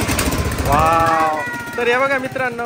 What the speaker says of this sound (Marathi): माऊलीचा ट्रॅक्टर चालू झालाय.